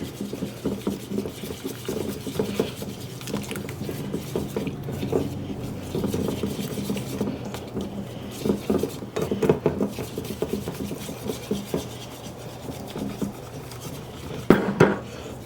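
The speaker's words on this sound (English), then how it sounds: "gradually pour in our wet and stir" Flour batter stirred in a bowl as wet ingredients are poured in, soft scraping and rubbing of a utensil against the bowl with faint splashy pats, close and quiet, no talking.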